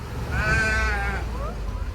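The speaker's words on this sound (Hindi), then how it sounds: "इन पहाड़ी भेड़ बकरियों ने रोक लिया है" A mountain sheep bleats loudly and close by on a road in the Uttarakhand hills where a flock of sheep and goats is holding up a bus, over a steady low engine rumble and faint voices.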